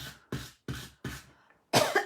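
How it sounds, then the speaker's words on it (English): Four sharp coughs in a steady rhythm, close and fairly loud, followed by a heavier, harsher cough burst. "Oh, I felt that cough coming on"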